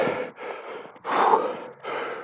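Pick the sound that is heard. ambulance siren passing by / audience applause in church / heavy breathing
heavy breathing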